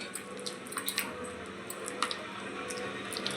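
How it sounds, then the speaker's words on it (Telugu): Jangiri batter, tinted with red food colouring, is stirred together with water, giving soft wet squishes and light clicks against the bowl, quiet and unhurried with no voices. "వాటర్ వేసుకొని కలుపుకో"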